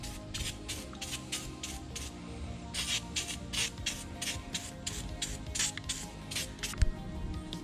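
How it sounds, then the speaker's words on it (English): Rapid short spray bursts of lubricant coat the engine components of a Sea-Doo Spark being winterized, hissing close by in a quick, steady rhythm. "Spray all the components down lightly so it's not corrosive on the inside."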